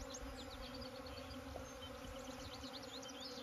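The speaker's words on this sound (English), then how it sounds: "there's bees everywhere along the bank, floating down the water" Bees buzz along a water bank where many are floating down the stream, in a season with no nectar. A faint, continuous hum with small overlapping whines from several insects, steady throughout.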